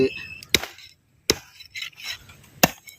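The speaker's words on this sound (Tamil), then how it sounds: "நாட்டுக்கோழி கறியை நல்லா சின்ன சின்னமாக அல்வா துட்டு மாதிரி நறுக்கி" Country chicken meat being chopped into small pieces, with three sharp, loud cleaver strikes on a board spaced about a second apart and quieter handling sounds in between.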